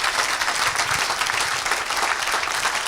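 Dense applause and cheering from a worship audience in a crowded hall, steady and loud throughout with no gaps.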